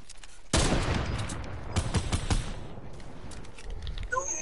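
SCAR assault rifle gunfire in the Fortnite video game, a loud burst of rapid close shots followed by scattered fainter reports and clicks.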